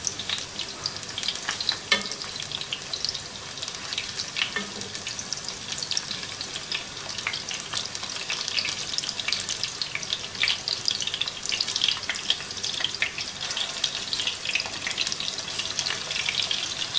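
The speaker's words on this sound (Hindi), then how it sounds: "साइडें पलटते हुए हर तरफ से फ्राई कर लेंगे इनको।" Chicken koftas fry in hot oil with a steady, dense sizzle that crackles on throughout, close and even, with occasional louder pops and no voices.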